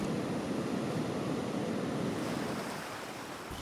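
Ocean surf breaks on a Falkland Islands beach, a continuous low rushing roar with wind noise that eases slightly toward the end, no voices.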